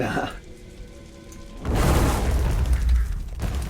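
Fireball and ice blast spells from the video game Fictorum go off in a roaring burst with a rumbling, crackling tail, following a quieter stretch of background game sound.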